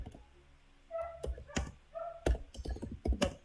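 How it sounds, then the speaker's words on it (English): Keystrokes on a computer keyboard while entering text in AutoCAD, sounding as short irregular bursts of fairly close clicks after a quiet opening second. "Now let's try and type again."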